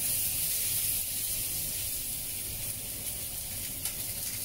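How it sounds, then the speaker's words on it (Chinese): Pork belly stir-fried over medium heat in a pan, giving a steady, close sizzle and hiss that runs unbroken under faint background noise. "有啲腩肉、五花腩都擺埋落去，兜炒。"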